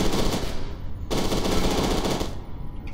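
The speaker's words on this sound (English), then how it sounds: "I fucking love the assault rifle in this" Assault rifle in the video game Fear 2: Project Origin firing in sustained loud automatic bursts, with a brief lull before a denser second burst, close and continuous with no talk.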